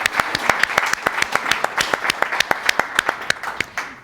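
A small group claps steadily, sharp individual claps forming an uneven rhythm of close, fairly loud applause.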